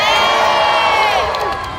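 An audience at a live animal show cheers loudly, a dense crowd of shrill children's shouts and whoops close by, fading slightly at the end.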